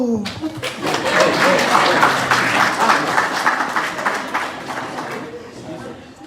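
An audience at a business seminar breaks into dense, sustained applause that swells and then slowly thins, with voices and a little laughter mixed into the clapping.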